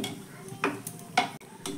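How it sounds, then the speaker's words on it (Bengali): Potato snacks fry in oil over a medium-low gas flame with a quiet sizzle underneath, broken by three or four short scraping clinks from a utensil stirring in the pan. "রেখে এগুলো কিন্তু খুব সুন্দর মুচমুচে করে ভেজে নিতে হবে।"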